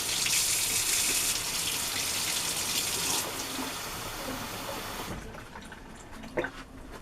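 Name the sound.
water poured into a baking pan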